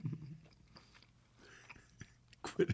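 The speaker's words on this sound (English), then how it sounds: "Quit chewing so hard." Loud, close chewing and biting on food, with crunchy bursts near the end, under quiet talk in the background.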